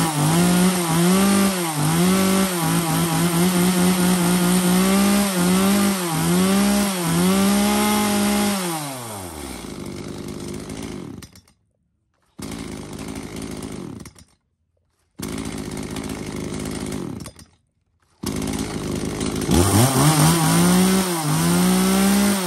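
A used Japanese-market Echo chainsaw, a small household saw sized for logs of about 25–30 cm, revs loudly in repeated throttle bursts, then idles down and cuts out. It restarts twice with gaps of silence between, and no one speaks.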